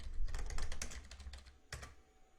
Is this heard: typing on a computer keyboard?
yes